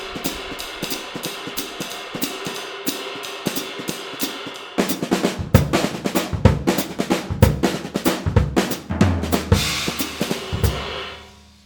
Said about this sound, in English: if I want to put this into jazz, let's say the obvious one, straight ahead